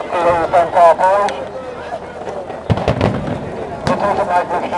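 Fireworks burst at the Lewes Bonfire Night display, with a few sharp cracks and booms over a crowd. People talk loudly close by between the bangs.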